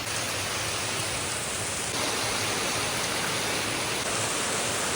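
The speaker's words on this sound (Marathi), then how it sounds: "पण आता कुठे पाऊस चांगला आलाय आणि बघताय खाली असाच पडत राहतोय" Heavy rain pours steadily on a village, a dense, continuous hiss of downpour close by with no pauses or voices, filling the whole stretch evenly.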